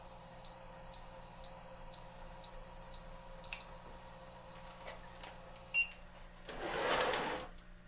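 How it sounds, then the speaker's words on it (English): A kitchen timer sounds four loud, shrill beeps in even succession while sous vide salmon cooks, followed by faint clicks and a short rustle of handling. "our timer's just about to go off"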